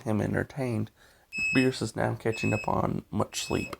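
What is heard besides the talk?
electronic beeping during power outage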